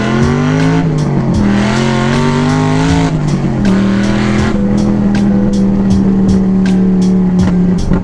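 Pontiac GTO V8 engine revving hard and loud, close by, with repeated rising and falling throttle blips and a strong rumbling low tone running through all eight seconds, no talking.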